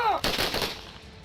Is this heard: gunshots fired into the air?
yes